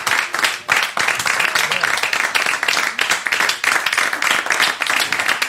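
A crowd applauding steadily, dense clapping from many hands with no talking, sustained at an even level throughout.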